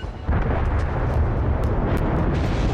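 A battleship shell salvo lands in World of Warships, a sudden heavy roar of explosions that starts abruptly and rumbles on loud and dense with a few sharper bursts.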